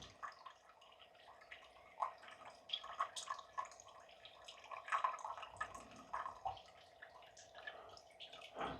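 Waste water from a reverse osmosis filter, an Arka myAqua 400, runs into a bowl as an uneven trickle with drips and splashes, close and quiet, with no talking.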